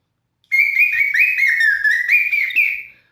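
A whistled imitation of birdsong, a continuous warbling, trilling melody that rises and falls, close and fairly loud, lasting a few seconds alone.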